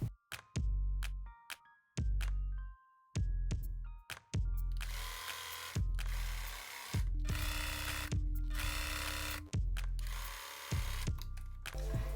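Sewing machine stitching a jumpsuit leg seam from crotch to ankle, with repeated short bursts of rapid motor-driven stitching separated by clicks and pauses, close and loud.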